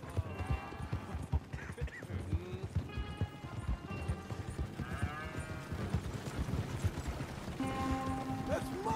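Horse hooves clip-clop steadily in the Red Dead Redemption 2 video game, a close, continuous rhythmic clatter with brief snorts and animal calls mixed in, under game voices and ambient noise.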